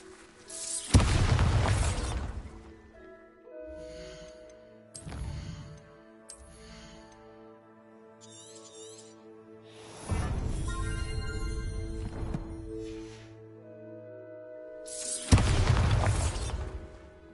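Bombarda spells in Hogwarts Legacy go off as loud booming blasts, four big explosions spaced across the stretch with crackling debris and quieter magical chimes in between.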